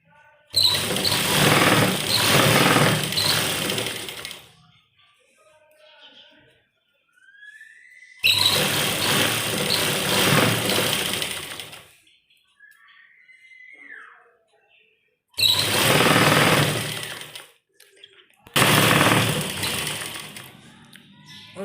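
An electric sewing machine stitching a salwar runs in four loud, whirring bursts of a few seconds each, separated by quiet gaps with faint cloth handling and small squeaks.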